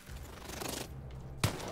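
A big cannon fires in the video game Lost in Random, a sharp heavy blast near the end after a rumbling, crackling build-up of combat noise.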